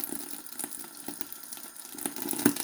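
Food cooks in an oiled, covered pan with a faint, steady sizzle and soft bubbling crackles, quiet and close.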